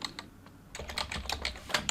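Keys clatter on a computer keyboard as new text is typed, starting with a few sparse taps and then settling into a quicker run of close, crisp keystrokes with no voices.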